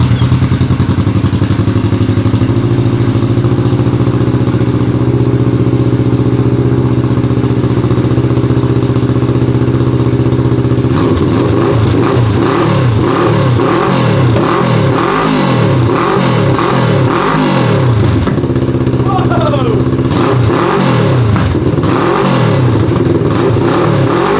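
A 600cc crosskart engine with an exhaust leak idles steadily with a rough buzz, then revs repeatedly in sharp rising and falling bursts, loud and close.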